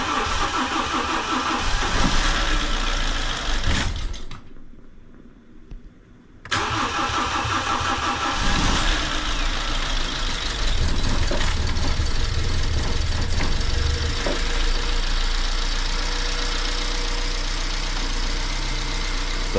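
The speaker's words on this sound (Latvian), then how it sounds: "Sākumā būs diezgan nepatīkams skaņas, jo tur nekas nav eļas spiediens sapumpējis gan kompensātors" BMW engine cranking into its first start after a seized-engine repair, running loud and rough with clattering mechanical noise as oil pressure has not yet built, a brief pause near the start, then a steady harsh idle.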